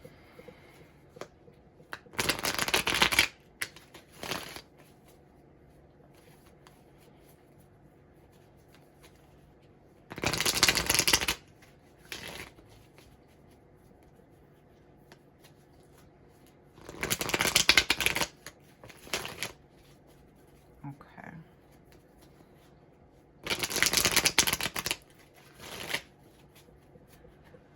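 A deck of tarot cards being shuffled in several quick riffling bursts, separated by pauses, close by; one brief spoken word in between.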